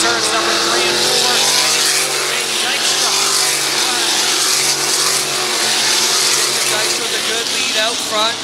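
Sprint race cars roar through turns three and four at a dirt oval in the Humberstone Action Sprint Tour, a loud, continuous engine drone that swells and fades as the pack passes, with an announcer talking over it.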